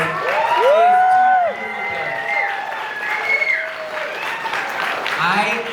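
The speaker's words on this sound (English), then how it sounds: "let's give a big round of applause" Wedding guests give a round of applause with cheers and whoops, clapping spread through the crowd while a raised voice and shouts ring out over it.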